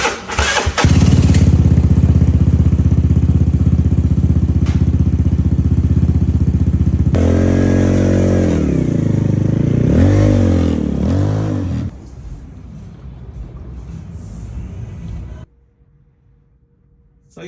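A Vespa LX150 scooter, just refitted with a new engine mount bushing, runs loud and steady close by, its engine note shifting in pitch midway, then drops to a quieter idle before cutting off near the end.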